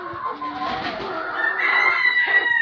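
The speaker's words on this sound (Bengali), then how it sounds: "তো এই হচ্ছে হেজা মুরগির প্যারেন্টস" Heja breeding-stock chickens at a farm give clear, close clucks and crowing-like calls, rising in a busy, overlapping run that grows louder toward the end.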